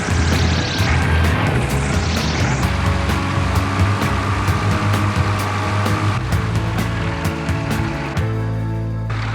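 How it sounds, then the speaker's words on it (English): A small propeller airplane rumbles steadily as it taxis, engine droning close and loud with a rattling buzz throughout, no talking. "Brian, any chance you could kind of expedite that taxi?"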